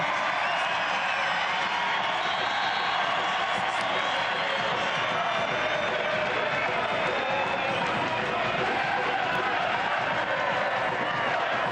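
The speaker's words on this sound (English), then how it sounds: "This crowd right now is absolutely ruckus." Stadium crowd cheering at a professional soccer match after a home goal, a sustained roar of voices at steady loudness across the whole span, with a commentator speaking over it.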